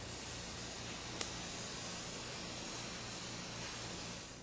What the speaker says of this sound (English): You spray thinned out epoxy on the foil.